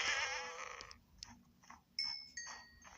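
A goat in the Minecraft video game bleats in a short wavering cry, followed by a few soft game clicks and thin tonal blips, all faint and with no talking.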